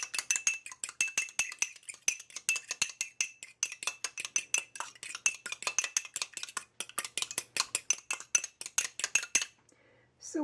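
An egg is beaten with a utensil against a bowl for small-batch M&M cookie dough, a fast steady run of sharp clicking strokes that carries on for about nine seconds before stopping.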